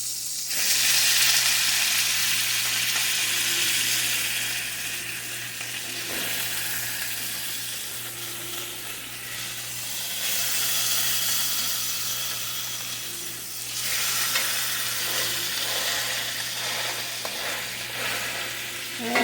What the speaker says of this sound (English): Okay, my burgers are cooking.